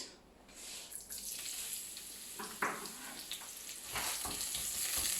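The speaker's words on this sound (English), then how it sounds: "Saute your onions." Onions sauté in a generous layer of hot oil in a pan, giving a steady broadband sizzle throughout with a few brief louder crackles and stirring scrapes, close and fairly loud, no voices.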